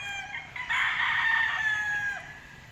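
A Red Kelso gamefowl rooster crows once at a game farm, a loud, close, drawn-out call that rises and holds for about a second and a half before trailing off.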